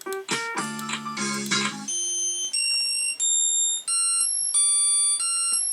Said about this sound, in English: here's another example of bad MIDI on this computer.